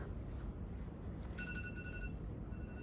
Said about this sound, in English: I think it's my phone.